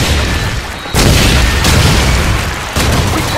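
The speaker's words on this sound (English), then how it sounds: "Grenade!" A grenade explodes during a Team Deathmatch round in a video game, giving sudden loud booming bursts with abrupt onsets amid dense game noise.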